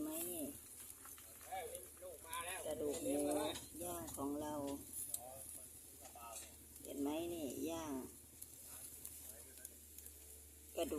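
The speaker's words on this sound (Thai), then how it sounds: "ย่างหมักกระดูกหมูย่างนะคะทุกคนเราหมักแล้วก็มาย่างในเตานี่นะ" Marinated pork bones grill on a home stove with a steady sizzle and occasional utensil clinks, while someone talks over it.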